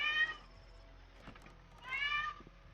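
A cat meows insistently for attention, two drawn-out calls about two seconds apart, close and fairly faint against a quiet background.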